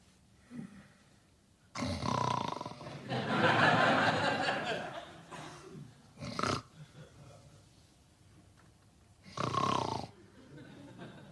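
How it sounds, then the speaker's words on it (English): A person snores in a sitcom scene, several loud, rough snorting breaths with pauses between them, close by and mostly alone with some faint background sound. "stop snoring"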